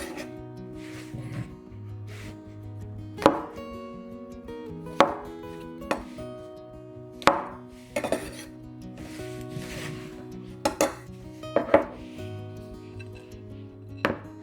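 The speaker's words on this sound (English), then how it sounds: "The mushrooms are not big this time, so we cut them in half." A knife halves small mushrooms on a cutting board, giving a dozen or so sharp, close taps at an uneven pace over quiet background hum.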